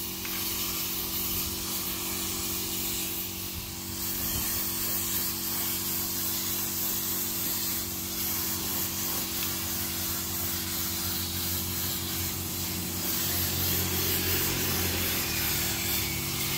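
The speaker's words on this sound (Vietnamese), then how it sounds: "Để nó đang sơn mấy cái bát giác rồi anh chị, sẵn tiện quay clip sơn này cho anh chị luôn." Faux-bronze spray paint hissing steadily from a can as octagonal bonsai pots are coated with a black base coat, a continuous close broadband spray with a low hum beneath and no talking.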